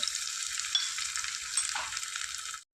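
A teaspoon of ginger garlic paste sizzles in hot oil in a pan, a loud, steady, bright frying hiss that carries on without a break and then cuts off abruptly.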